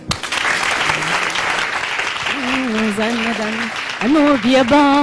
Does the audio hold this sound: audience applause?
yes